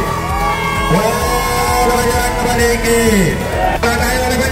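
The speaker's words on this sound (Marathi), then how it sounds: "जोरदार टाळ्या झाल्या पाहिजे पांडुरंग फायटर्स साठी." A crowd cheers and shouts for the Pandurang Fighters, winners of a local league, loud and close, with a voice over a microphone running through the noise.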